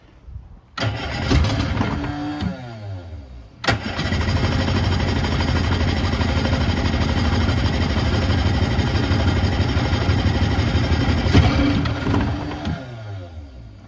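A 1959 Johnson Super-Seahorse 35hp outboard motor cranks and fires, briefly sputters, then restarts and runs loud and close at a steady warming-up idle before winding down at the end.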